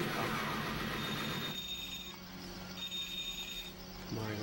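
An electronic telephone ring chirps in two bursts over busy game music and noise, fairly loud and close, in the Sega Saturn game Black Dawn.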